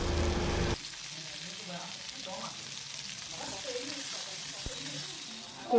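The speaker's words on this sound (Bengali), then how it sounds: "তো আমি কড়াইতে তেল দিয়ে কাঁকরোলগুলো ছেড়ে দিলাম" Teasel gourds fry in oil in a wok with a soft, steady sizzle and light crackle, heard fairly quietly beneath occasional household voices after a brief louder noise at the start.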